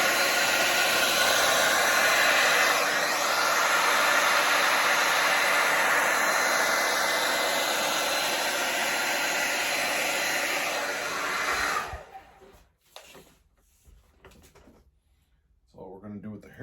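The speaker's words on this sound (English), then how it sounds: "With the hair dryer" A hair dryer blows loudly and steadily for about twelve seconds, then cuts off, leaving quiet rustling and handling noises.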